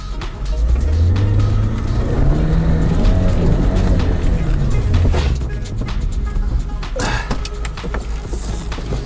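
Off-road car in a group winter outing with Nivas, Dusters and a Touareg revs and pulls away, a loud close engine climbing in pitch then easing off and fading as it drives off.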